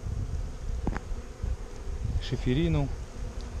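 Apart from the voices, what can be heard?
honeybees buzzing at the hive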